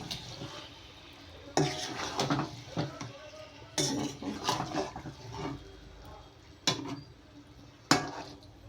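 Chicken being stirred into a spice masala in a pan for chicken kosha, with repeated scraping and clinks of a utensil against the metal pan, some sharp knocks standing out, close and moderately loud.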